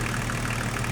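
BMW E36 325tds diesel engine idling steadily during an air-conditioning recharge, giving a continuous low rumble with a faint rhythmic knock throughout.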